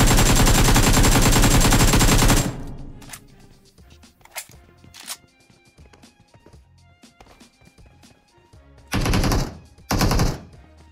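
Gunfire in BGMI opens with a loud sustained burst of rapid automatic fire lasting a couple of seconds, followed by quieter scattered shots and footsteps, then two more short loud bursts near the end.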